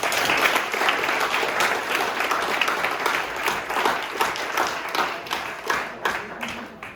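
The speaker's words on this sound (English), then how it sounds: "So, clap it up for Connor." Team members at a freshman end-of-season party applaud for Connor: a dense, lively burst of many people clapping close by, holding steady before thinning into scattered claps at the end.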